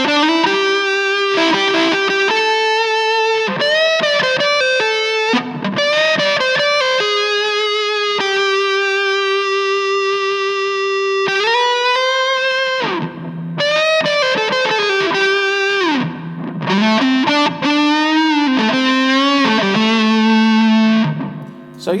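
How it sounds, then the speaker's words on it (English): Hollow body electric guitar through a home-built Big Muff fuzz pedal playing a loud sustained lead line, thick distorted notes held long with feedback swelling on the sustained tones. "You can hear the guitar is actually feeding back because I'm playing a hollow body."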